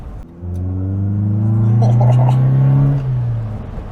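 A 1968 Toyota Corona with extra power revs its engine while driving, a loud, steady mid-pitched drone climbing and falling over a few seconds, close and dominant with no talk.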